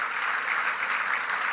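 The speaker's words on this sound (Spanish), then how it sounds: "Dele ese aplauso fuerte al Señor." A church congregation at a Guatemalan congress claps loudly and densely for a short burst, with a dense wash of many hands and no pauses.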